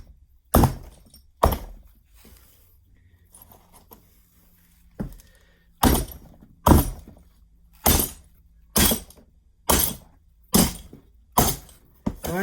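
Glass being broken inside a box on a foam board, a series of about a dozen sharp cracking smashes, irregular at first and then coming roughly once a second, close and loud with quiet gaps between.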